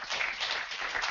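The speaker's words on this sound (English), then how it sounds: "let's give an applause" Audience applause at a tech conference talk, a dense continuous wash of many hands clapping at steady loudness throughout, with no voices over it.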